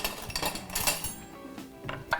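A spoon clinks and scrapes against a pan and a small bowl while spicy shakshuka of eggs, tomatoes and feta is served, with quick close-up knocks and chinks and no talking.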